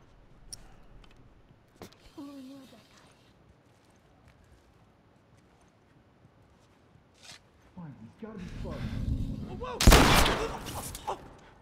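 Gunfire in The Last of Us Remastered, with a few sharp isolated shots early on, then a loud close burst near the end, spread across mostly quiet gameplay, with a voice talking at times.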